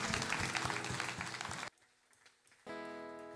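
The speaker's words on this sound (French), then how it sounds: "Allons applaudir notre Dieu, mes frères et sœurs" Congregation applauding during a French-language church worship service, a dense burst of clapping for under two seconds that cuts off abruptly, followed by a quiet pause and then a louder, sustained sound.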